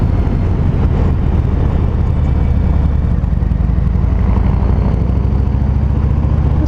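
A 2019 Harley-Davidson Fat Boy rumbles in third gear while riding, a loud, continuous low engine drone with steady wind rush and no speech.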